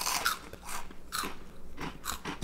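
Several loud, crisp crunches as someone bites and chews Flamin' Hot Doritos, close up, in irregular bursts with no talking.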